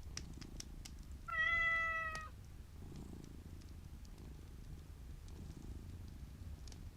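In a video game, one short meow rises over a cat's steady, low purring that runs throughout, close and alone with no voices.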